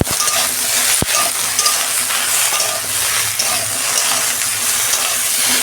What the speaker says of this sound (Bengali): ঢ্যাঁড়সটা আমি ভেজে নিয়ে তারপর দেখাচ্ছি